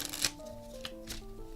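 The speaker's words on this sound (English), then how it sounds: "Now if we shuffle the deck" A deck of playing cards being shuffled at a table, heard as quick, soft riffling bursts of paper flutter close by, with steady tones humming faintly underneath.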